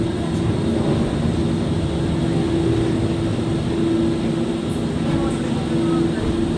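An airplane passes overhead at a Walt Disney World theme park, a steady loud engine drone holding throughout beneath crowd noise.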